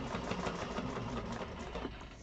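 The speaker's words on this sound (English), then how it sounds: "Now I do all my top stitching on my cylinder arm" Cylinder arm sewing machine top stitching along a Maxine tote bag with its lining pulled tight, a steady close whirr of rapid needle strokes running continuously without pause.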